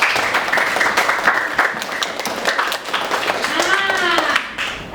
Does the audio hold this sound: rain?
no